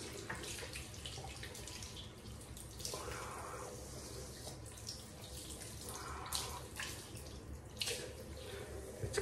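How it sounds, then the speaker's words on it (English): Water runs steadily from a tap while a shaving soap tub is rinsed, giving a quiet, continuous splashing wash with brief swells. "I'm gonna rinse this tub a bit."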